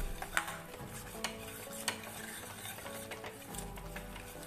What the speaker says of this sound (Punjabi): ਨਾਲ ਨਾਲ ਘੁਲਾਉਂਦੇ ਜਾਓ, ਕਿਉਂਕਿ ਇਹ ਥੱਲੇ ਨਾ ਲੱਗੇ